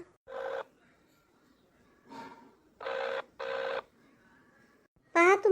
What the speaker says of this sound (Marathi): पहा, तुमचा फोन वाजून राहिला.